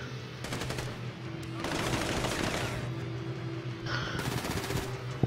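Carbine rifle and machine gun fire in GTA V Survival mode, rapid sustained automatic bursts rattling in several stretches over steady background game noise, fairly faint overall.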